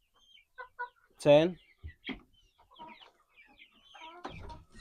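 A few backyard chicken clucks and squawks sound nearby in short bursts in a henhouse, with someone speaking briefly over them.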